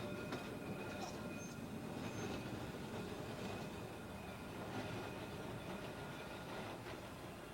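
A modern tram of a design introduced in 1984 rolls past with a continuous rumble of wheels on rails, faint squeals and clicks, heard at a moderate distance.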